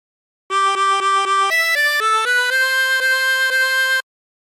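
A tremolo harmonica plays a short melodic phrase from "She'll Be Coming Around the Mountain" with a wavering tremolo, steady notes stepping up and down, loud and close, with no voices.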